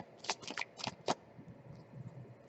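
Tarot cards are shuffled in several quick riffling bursts, crisp and close, followed by softer handling sounds in a quiet room.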